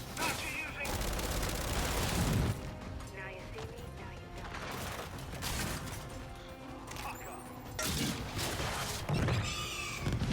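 Grenade launcher fire in the Gears 5 Horde video game, a dense run of booming shots, blasts and clattering impacts that keeps up for about ten seconds, loud throughout with heavier bursts near the start and end.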